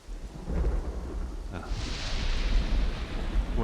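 A thunderstorm with rain in a video game: deep rumbling thunder rolls over a steady wash of falling rain, loud and continuous with a brighter hiss swelling midway.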